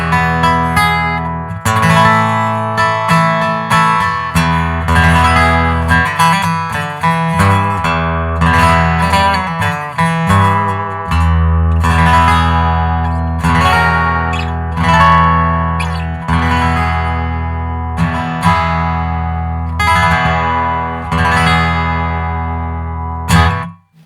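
A Larrivee L-03 mahogany acoustic guitar is strummed and picked through a Two Notes Opus with no compression, producing rhythmic chords with sharp attacks, loud and close, ending abruptly, with no talking.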